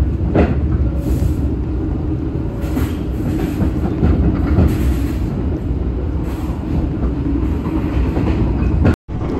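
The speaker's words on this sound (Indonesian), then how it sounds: "kalau jalurnya terlalu berisik, ini suaranya sampai masuk ke dalam kabin penumpang" Mutiara Timur economy New Generation passenger train rolling along the track, heard from inside the passenger cabin as a loud, steady rumble with rhythmic wheel clatter throughout and no talking.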